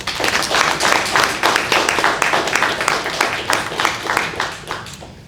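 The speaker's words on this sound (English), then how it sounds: "I ask that you give all of them a round of applause" An audience at a city press briefing in Jackson, Mississippi applauds the fire department with sustained, dense clapping that fills the room and stays steady throughout.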